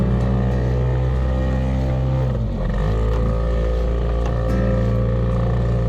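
The engine of a small fishing boat at sea runs loudly and steadily with a deep droning hum, its pitch dipping briefly before settling back.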